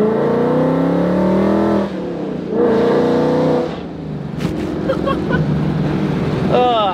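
A 2021 Procharged Mustang GT 5.0 with catless headers accelerating in short pulls, a very loud, raspy exhaust roar rising in pitch, dropping off and revving again nearby.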